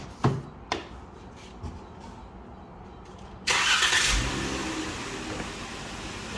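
A car engine cranks and starts during an AC service, with a few clicks and knocks followed by a sudden loud start and a steady idle that slowly settles.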